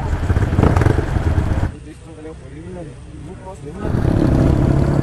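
Motorcycles on an off-road ride toward Dhulikhel in foggy weather, engines rumbling loudly nearby, easing off briefly in the middle before picking back up, with people talking over them.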